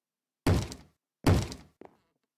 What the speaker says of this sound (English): Okay, the door is banging,